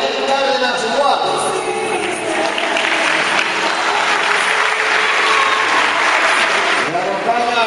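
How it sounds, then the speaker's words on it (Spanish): Warm crowd applause at a regional cueca dance competition in Pichidegua, greeting a young champion dancer; steady, dense clapping fills the whole stretch at close range, with a voice faintly audible underneath. "saludamos con un cariñoso aplauso a la señorita"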